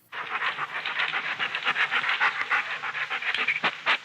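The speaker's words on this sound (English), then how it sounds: "So, Tony carried a trembling puppy 2 miles through crowded streets to his apartment" A trembling puppy panting in a radio drama, rapid steady breaths close to the microphone for about four seconds, with no voices over it.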